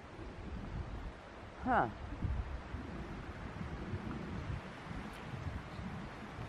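Wind buffets a microphone outdoors at a lakeside cemetery, a continuous low rumbling gust noise throughout, with a brief voiced murmur partway through.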